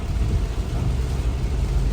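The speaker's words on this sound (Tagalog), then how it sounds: "Grabe pa yung lakas ng ulan, oh." Dense, continuous rumbling wash of heavy rain, loud and steady with a low roar underneath and no voices.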